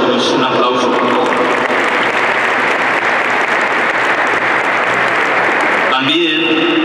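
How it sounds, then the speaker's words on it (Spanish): Loud, dense applause from an audience at a school ceremony, sustained for several seconds before tapering off as a voice comes in at the end. "Un aplauso, por favor."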